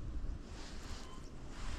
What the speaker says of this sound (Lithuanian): Matos, kaip nerimsta vėjas